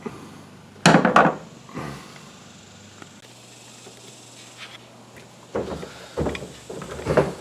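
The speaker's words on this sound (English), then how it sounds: "So I use a hammer, and I actually use this little file that's got a flat end down it." Several sharp metallic taps and knocks from a hammer and flat-ended file on a 55-gallon drum, a quick cluster early then a few more later, separated by quiet stretches with a low hum.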